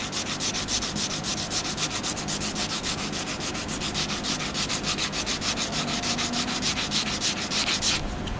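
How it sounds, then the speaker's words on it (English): 120-grit sandpaper rubs by hand over a car bumper with a Type S lip on an 04-06 bumper, a loud, close, rapid back-and-forth scratching that runs on without a break. "This is 120. This one actually did it real quick. We just go sand it."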